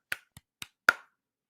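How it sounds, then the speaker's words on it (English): Four sharp, separate claps or snaps from one person on a livestream, close to the microphone in a quiet room, evenly spaced and ending quickly. "Let's give a round of applause for Ethernet."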